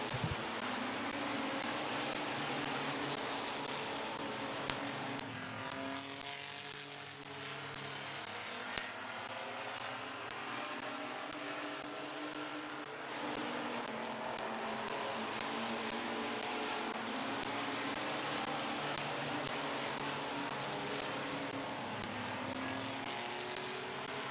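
Race trucks at Midvale Speedway roar continuously around the oval, several engines layered in a loud, steady drone with pitch sweeps as trucks close up and pass.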